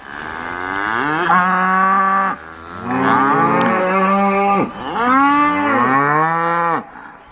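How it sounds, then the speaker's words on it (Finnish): Cows and calves on a pasture low repeatedly, three long drawn-out moos in succession, loud and close, with no talking. "Sinne meni meidän vasikat näköjään ja lehmät lähti tänne päin"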